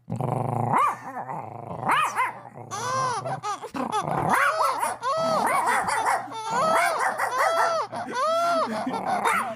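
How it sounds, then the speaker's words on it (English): A big dog growls and barks in a rough, drawn-out run of snarls and whimpering yelps, loud and near, with voices talking in between. "Good big dog."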